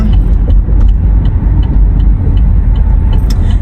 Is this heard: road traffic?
yes